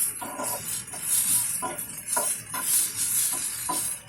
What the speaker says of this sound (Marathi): आपला कांदा भाजून झालाय, तर लसूण टाकते